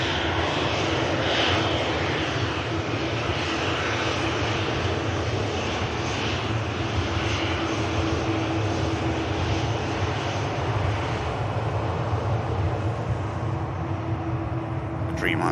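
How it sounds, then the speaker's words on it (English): At Manchester Airport, a Jet2 airliner bound for Fuerteventura taxis past with a steady, loud jet engine roar that holds for the whole stretch, while a voice talks over it. "Jet 2 for Fuerteventura that's just rolled past"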